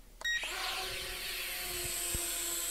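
A Schark Spark Warrior folding pocket drone spins up its small rotors and lifts off, settling into a steady high-pitched whine as it hovers nearby.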